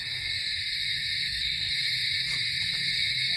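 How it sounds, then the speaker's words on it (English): An owl calls at night in open country, a faint hoot set against a steady, loud chorus of insects or frogs, with no talking. "Now the owl's over there."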